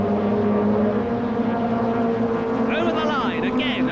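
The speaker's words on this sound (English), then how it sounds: "Hear the tyre squeal." Racing cars lap Brands Hatch on a slippery surface under a loud, steady engine drone, with a brief, wavering high tyre squeal rising near the end while a commentator talks over it.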